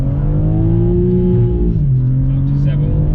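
A BMW G81 M3 Touring fitted with a Remus OPF-back exhaust revs up in first gear, its loud engine note climbing steadily before it dips and settles, droning close by for the whole stretch.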